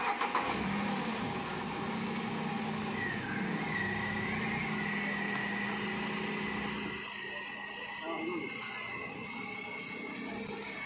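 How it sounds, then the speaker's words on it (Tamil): A car engine runs steadily and loudly nearby, then shifts pitch and settles as the car pulls away, the droning hum continuing to the end. "இது அங்கிள் கொண்டு போகிறாங்க வண்டி."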